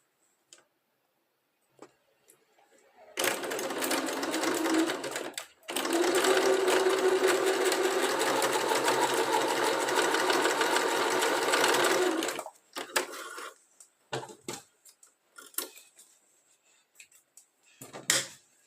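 A sewing machine runs a reinforcing seam on a fabric phone bag in two long bursts of fast, even stitching with a brief pause between them, followed by scattered clicks and handling noises.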